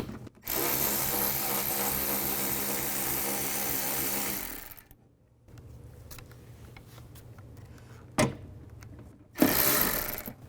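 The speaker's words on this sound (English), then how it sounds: "I'm going to take the 2 bolts out that are holding the window to the regulator" Ratchet with a 10mm socket removing window regulator bolts on a 2005-15 Nissan Xterra rear door: a long loud stretch of steady mechanical whirring, then a quiet gap, scattered clicks and two sharp bursts near the end, no talk.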